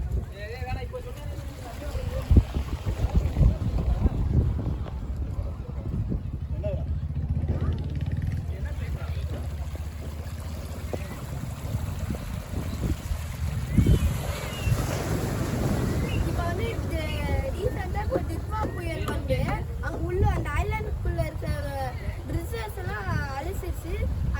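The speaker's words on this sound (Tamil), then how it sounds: "இப்போ நம்ம இங்கே வந்திருக்க ஸ்பாட் பேர் குண்டுக்கல் பீச்." Wind and waves at Kundukal beach near Rameswaram, a steady rushing roar of wind buffeting the microphone with surf beneath, continuous throughout while someone talks over it.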